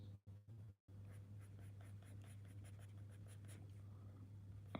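Pencil scratching across paper during a live figure study sketch, a steady close soft scraping texture with rhythmic strokes over a low constant hum, after brief pauses at the start.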